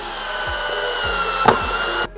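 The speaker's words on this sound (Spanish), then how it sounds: "Y tomamos nuestro taladro inalámbrico." A cordless drill whirs steadily for about two seconds at close range while making a self-watering planter, then cuts off abruptly.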